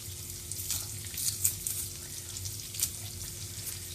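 Minced garlic cooks gently in a pan on low heat, a soft steady sizzle with a few light clinks and scrapes, fairly quiet and close.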